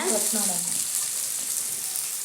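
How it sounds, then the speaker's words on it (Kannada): Hot oil sizzles loudly and steadily throughout as spices are tempered, a bright crackling hiss, with a brief voice heard at the start. "ಕಾಳು ಒಗ್ಗರಣೆ ಕೊಟ್ಟೆ"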